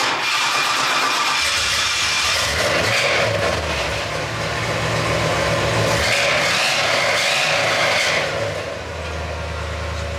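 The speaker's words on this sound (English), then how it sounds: "let's see if the old GMC Canyon still runs" An old GMC Canyon pickup truck engine cranks and then runs with a steady, rough rumble, heard close for about ten seconds with no talking.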